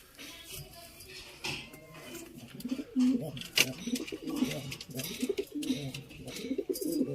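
Chuhay (Teddy) pigeons, a hen among them, coo in low, soft, repeated murmurs through a busy, hissy background, with a voice talking over them now and then.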